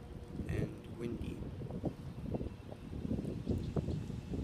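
Stormy wind buffets an outdoor platform at Danforth GO Station under a dark bluish sky, a steady rumbling gust noise dominating near the microphone with a faint voice underneath.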